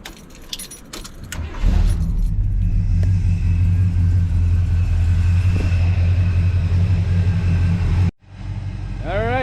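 A worn Buick Riviera keychain for a 1971 Riviera with a 455 big block jangles near the start, then a steady low engine rumble takes over and a voice briefly speaks at the end.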